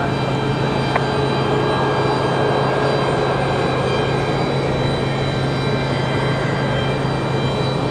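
A Delta Airlines airliner bound for Miami rumbles at an airport, a steady, broad roar of engines that stays level and unbroken for the whole stretch.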